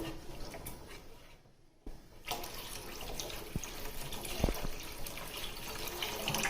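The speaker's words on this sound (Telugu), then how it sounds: "ఇదిగోండి, నేను 1 లీటర్ పైన పోసాను వాటరు." Water pours steadily into a pot for fish curry, a quiet continuous splashing that pauses briefly then resumes, with a couple of soft knocks, no speech.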